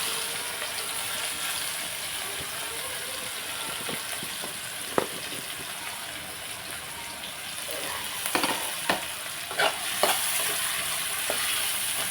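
Chopped onions frying in hot oil for a home-style Telugu curry give a steady, moderate sizzle, with scattered sharp crackles and pops in the second half.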